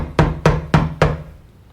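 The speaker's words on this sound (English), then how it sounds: "A sharp knock shook Hastings out of his reverie." A sharp knock on a door, four quick raps evenly spaced and close, each ringing briefly, then quiet; used as a podcast sound effect.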